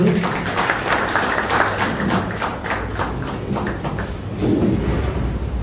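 An audience at a book launch ceremony in Dombivli applauds a guest taking the stage, a burst of many hands clapping in a hall that rises and holds, loud and close, with some thumps mixed in.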